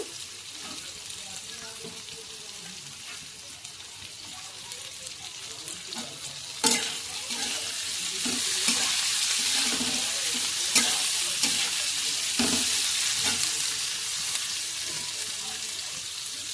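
Capsicum and chicken fry in a pan with a steady crackling sizzle that grows louder partway through, broken by spoon clatters and scraping stirs, no voices.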